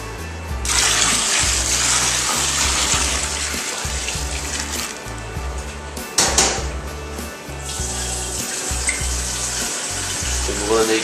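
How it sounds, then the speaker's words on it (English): Cold tap water gushes into a plastic home-brewing fermenter for wheat beer in strong bursts, stopping and restarting, with a low rhythmic hum running underneath. "then we'll fill up this up to the 21 litre mark now with cold water"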